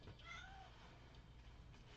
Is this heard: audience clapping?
no